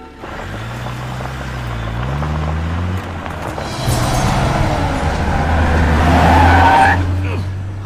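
A car engine revs up and pulls away close by, its pitch climbing with a brief tyre squeal, loud and steady over a muffled roar.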